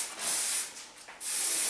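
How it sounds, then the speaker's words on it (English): Hair spray hisses from an aerosol can onto a freshly cut chunky bob, two or three close, steady bursts with brief pauses between them and no talk. "I'm just going to spray it."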